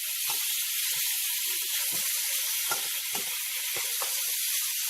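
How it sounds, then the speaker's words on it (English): Ham browning in annatto seed oil in a pan gives a steady broadband sizzle and hiss throughout, with several short pops and crackles scattered across it; no voices. "I'm going to continue browning my ham until it's nice and crispy"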